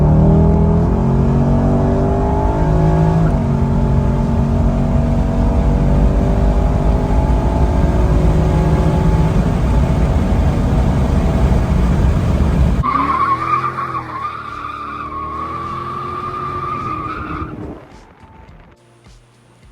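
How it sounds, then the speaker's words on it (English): A tuned car driven hard on country roads, its engine loud and sustained with rising and falling revs and some tire noise, before dropping to a quieter cruise near the end. "doing some spirited driving on some country roads"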